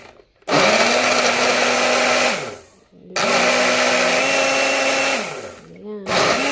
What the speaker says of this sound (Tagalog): Be-blender ko muna siya.